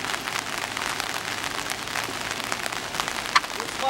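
Heavy rain pours steadily through the woods at night, a dense, even hiss of drops on surfaces with a single sharper drip or knock near the end, and no voices.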